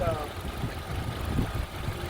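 A 2.5-litre four-cylinder Toyota Camry engine idles steadily just after a slightly hesitant start following spark plug replacement, a low continuous rumble with faint pulsing, heard close and alone.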